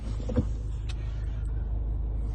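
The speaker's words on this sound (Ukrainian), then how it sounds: "запускається він без проблем. Робота двигуна є рівною." A 2011 Citroen Berlingo engine idles steadily with a low, even rumble throughout, and a brief mechanical thump near the start.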